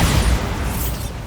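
A Bombarda spell explosion from Hogwarts Legacy, a short, loud, booming blast with a rumbling low end that stays full for about a second before easing off.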